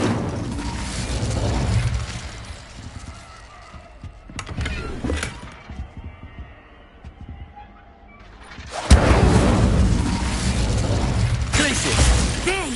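Spell casting in the Hogwarts Legacy video game, an Incendio fire spell amid rapid combat, heard as bursts of whooshing, crackling game effects with loud swells at the start and end and a quieter stretch between, with voices underneath.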